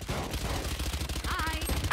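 Steady rapid gunfire from a Valorant match, a dense rattling stream of shots at moderate loudness that runs the whole length, with a brief higher-pitched game effect near the end.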